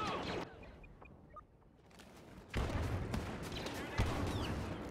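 Grenade explosions in the Star Wars Battlefront video game: a loud burst of booming noise hits mid-way, followed by another sharp blast a second later, over quieter battle sounds.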